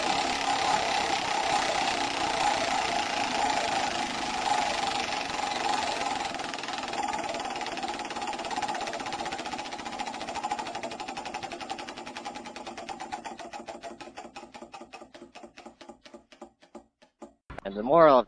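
A prize wheel spins with a steady rapid ratcheting clatter that gradually slows into distinct, widely spaced clicks before stopping, with a brief louder knock at the very end.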